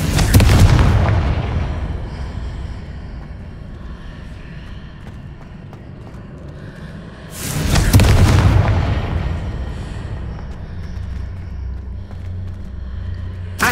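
Two heavy blasting-spell explosions go off in the Hogwarts Legacy video game, one at the start and another about seven seconds later, each a loud booming burst that fades into a low rumble.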